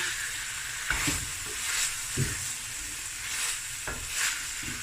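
Spices sizzling in a pot for a lamb chop and cauliflower breyani, a constant close hiss broken by a handful of spoon scrapes and stirring knocks at irregular intervals, with no voices.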